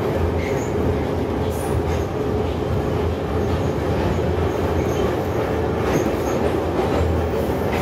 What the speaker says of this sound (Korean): 지하철 문이 화가 난 것처럼 확 닫히죠